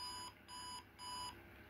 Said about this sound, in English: then you open this bit out to the side, and then you'll hear 3 beeps